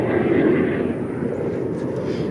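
Broad, steady roar of a training aircraft passing overhead outdoors, louder at first and then slowly fading, with no talk over it.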